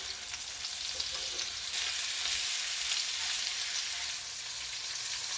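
Steady, crackling sizzle of chicken pieces frying in hot oil in a pan for a stir-fry, constant and fairly close with no voices.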